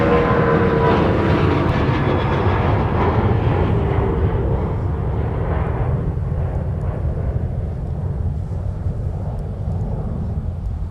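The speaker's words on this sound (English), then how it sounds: "now it is Delta 121 Heavy. It'll be departing with the A350 for Tokyo, Haneda." A Delta Airbus A350 heavy jet bound for Tokyo Haneda takes off from runway 30 left at Minneapolis–St. Paul airport, producing a loud, continuous broadband roar that slowly thins and fades over the seconds.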